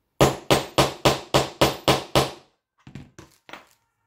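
A hammer drives a hole punch tool into a thick card mini block with eight hard, evenly paced strikes, loud and close, followed by a few quieter taps after a short pause.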